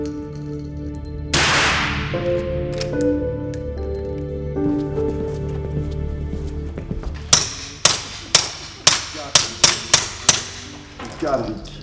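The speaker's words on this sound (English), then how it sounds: "I gotta try the shotgun" A suppressed shotgun is fired outdoors at a range. After one loud blast early on come a string of about nine sharp, evenly spaced reports with short gaps between them, and there is background noise and talk around the shots.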